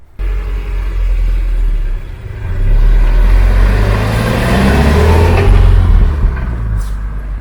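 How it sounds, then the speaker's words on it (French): A Subaru BRZ Limited Edition sports car with a sport exhaust, its engine rumbling deep and loud nearby, swelling as it revs up and holding a strong steady drone with no talk over it. "Tu avais un pot d'échappement sport."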